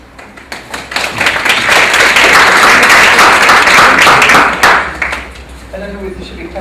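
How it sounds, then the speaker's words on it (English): An audience claps for an MC being introduced at an evening self-esteem presentation, a dense, steady burst of applause that swells for several seconds and then thins out as a voice begins talking. "I don't know whether you should be clapping already."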